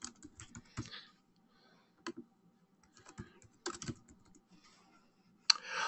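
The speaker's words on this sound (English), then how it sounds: "you can hit the plus sign or the tab key on your keyboard" Someone types on a computer keyboard nearby, irregular bursts of crisp key clicks separated by short pauses, ending in a louder clack.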